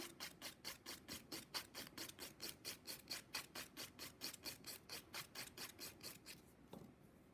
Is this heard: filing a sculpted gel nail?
yes